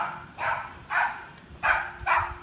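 A dog barks four times in short, evenly spaced yaps, fairly close, with a quiet background between barks.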